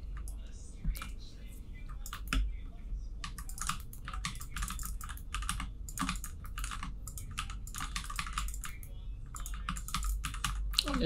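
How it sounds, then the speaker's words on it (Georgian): Rapid clicky typing on an RK96 mechanical keyboard, dense bursts of sharp keystrokes close up with brief pauses, over a low steady background hum. "კლავიატურის ხმების და ვიზუალის უკეთ ასანალიზებლად"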